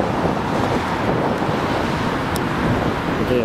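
Wind gusts across an outdoor microphone on a breezy, cloudy day, a steady, broad rushing roar with no voices.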